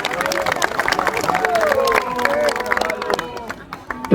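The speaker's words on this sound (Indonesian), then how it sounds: "Tepuk tangan untuk kita semua." A large outdoor crowd at a mass gathering claps and cheers in a dense, busy wash of sound, with voices and hubbub mixed in throughout.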